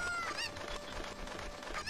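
Chicken in Ocarina of Time Master Quest at Kakariko Village, giving a couple of short squawking clucks over faint background ambience.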